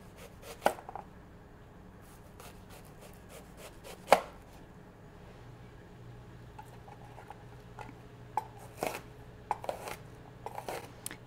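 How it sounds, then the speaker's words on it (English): A knife chopping onion finely on a board for tartar sauce, quiet scattered taps with a few sharper knocks, in irregular bursts with pauses between. "chop it as finely as you want"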